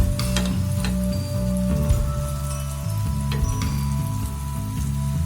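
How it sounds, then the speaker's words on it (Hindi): Chana pakoda batter poured into hot oil on a low flame, frying with a steady, close crackling sizzle that runs throughout, broken by small spatters and the clink of a utensil. "थोड़ा थोड़ा बैटर डालेंगे इस तरह से"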